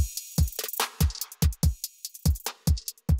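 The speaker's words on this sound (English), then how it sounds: "The original kick drum loop has all those other drums in there." Raw kick drum loop with other drums bleeding through, deep thumping kicks in an uneven groove alongside snare and hi-hat hits, loud and dry, with no voices.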